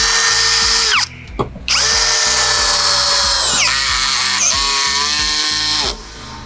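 A Xenon CDID1845 18V cordless impact drill bores into iron, its loud high motor whine running steadily in long bursts with pitch dips under load and a short pause near the start, close up and without voices.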